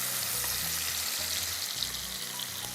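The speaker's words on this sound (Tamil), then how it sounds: "நல்லா வதக்குங்க." Ginger garlic paste sautéing in a pan for mutton pulao, giving a steady, close, loud sizzle with faint stirring scrapes and no talk.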